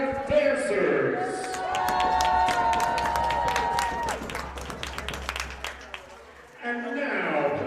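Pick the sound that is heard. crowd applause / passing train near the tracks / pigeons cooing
crowd applause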